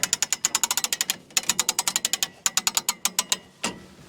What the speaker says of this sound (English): Just position the jack underneath or the tree pusher underneath, and with a few cranks